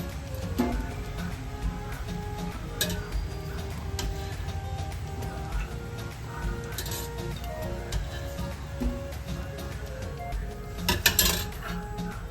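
A kadai pan set on the stove and 2-3 teaspoons of oil added for fenugreek leaf curry, faint clinks and light metallic taps over a steady kitchen hum, with a brief louder clatter near the end.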